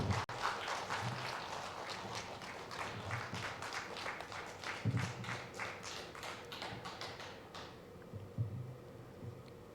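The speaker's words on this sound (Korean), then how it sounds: "우리 신현웅 목사님 나오실 때 우리 박수로 환영하도록 하겠습니다" Church congregation at an afternoon worship service clapping to welcome a pastor to the front, a dense ripple of many hands close by that swells, carries on for several seconds, then thins out and stops near the end.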